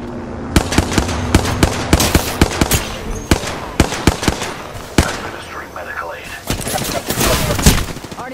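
Video game gunfire in rapid bursts of sharp cracks and booming blasts, close and loud, spread irregularly across the span with a voice talking over some of the shots.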